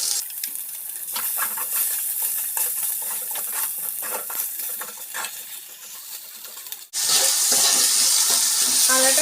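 Ginger paste frying in oil in a pan for a Bengali-style dalia khichdi, a steady close sizzle with stirring scrapes, rising to a louder, brighter hiss near the end.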